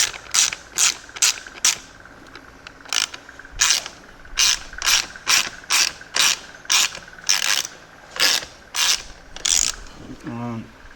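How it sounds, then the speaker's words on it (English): A ratchet with a 13mm socket tightens a bolt to torque on a Ducati Hypermotard 821 motorcycle, giving a steady series of sharp, close mechanical clicks in bursts, ending with a lower creaking tone. "Get a good nip. click, there we go, torqued."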